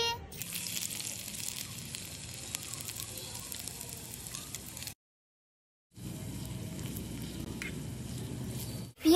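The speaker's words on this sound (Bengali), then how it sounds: "পেঁয়াজটা এবার আমার ভাজা হয়ে গেছে।" Chopped onions frying in hot oil give a steady, close sizzle that runs unbroken, cuts out completely for about a second, then resumes at the same level.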